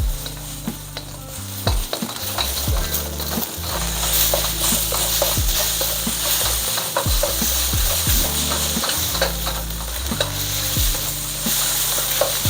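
Eggs frying and being stirred in a pan for shrimp fried rice, a loud continuous sizzle with rhythmic scraping strokes of a spatula close by, backed by music.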